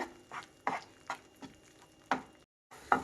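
Onions fried in a pan for onion chutney over a medium flame, stirred with a utensil that scrapes and knocks in several short, irregular strokes against a low background sizzle, fairly close.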